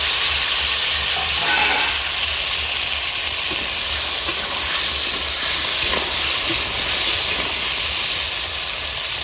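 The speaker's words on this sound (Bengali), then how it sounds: "এবার আমি ওলকপি আর আলু একটু হালকা করে ভেজে নেবো। এই তেলে ভেজে নিচ্ছি।" Kohlrabi and potatoes shallow-frying in hot oil in a pan, with a loud, even, continuous sizzle and hiss up close, broken now and then by faint clicks.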